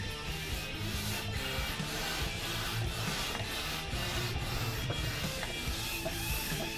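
A pump inflating the booster seat of an Intex Excursion Pro inflatable kayak. It gives a steady, loud, continuous mechanical whirring and rasping that runs unbroken through the clip, with no talking.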